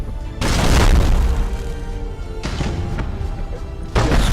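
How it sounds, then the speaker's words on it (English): Broadside macro cannons of a warship in the space battle game Battlefleet Gothic Armada fire in deep, loud booming blasts, with three separate heavy volleys that each leave a rumbling tail. "Broadside macro cannons ready to fire on your order, sir."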